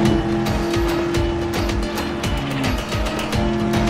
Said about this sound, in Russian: Сзади быстро приближается машина.